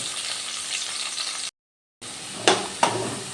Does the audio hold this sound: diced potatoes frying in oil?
yes